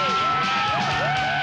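A crowd at the 1997 Burton US Open snowboarding contest cheers and whoops in a loud, continuous roar with rising and falling shouts throughout.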